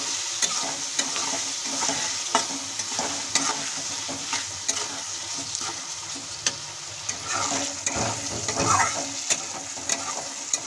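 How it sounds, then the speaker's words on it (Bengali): Spice masala with chili and coriander powder frying in a pan for a bottle-gourd kofta curry, a steady close sizzle with repeated scraping stir strokes and small clinks throughout, no talking. "সবগুলো উপাদান দেওয়া হয়ে গেছে, এখন আমি ভালোভাবে ভেজে নেব।"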